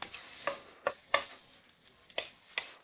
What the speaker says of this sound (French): Remuez jusqu'à ce que la viande soit bien frite et savoureuse.